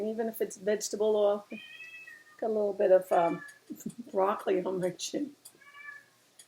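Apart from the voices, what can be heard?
pet cat meowing, complaining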